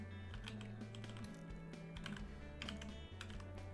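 Steady clicking of a computer keyboard as C++ code is typed, rapid uneven keystrokes close up over a low background hum, with no voices.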